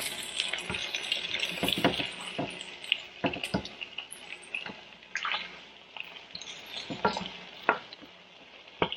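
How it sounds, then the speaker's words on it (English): Frozen pierogi fry in a pan with burnt onions, a steady close sizzle broken by scraping stir strokes and clinks from a utensil, with a faint running-tap sound mixed in. "Now we're just gonna fry the other side"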